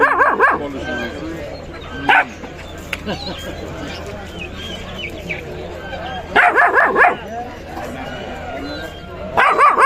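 Puppies bark in short bursts, near and loud, with talking running underneath most of the time.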